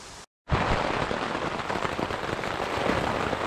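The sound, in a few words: heavy downpour of rain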